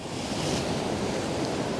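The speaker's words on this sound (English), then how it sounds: "the waves are breaking behind us now" Waves breaking on a rocky Northumberland shore at Craster, a steady roaring wash of surf with wind noise buffeting the microphone, no voices.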